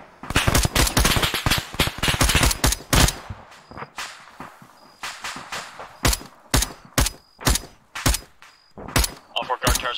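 Rifle fire aimed at village lights in ArmA 3, a dense rapid burst of loud close gunshots giving way to spaced single and double shots with short pauses between them.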